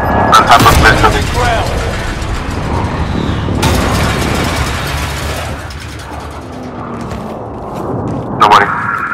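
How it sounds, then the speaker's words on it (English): Airstrike explosions in Call of Duty Warzone, a sequence of heavy booms and rumbling blasts with a sharp burst near the start and another near the end, under players talking. "Friendly position airstrike inbound."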